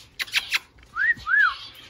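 A pet bird named Mikey, perched on a shoulder, gives two clear rising-and-falling whistles up close, following a few short chirpy calls.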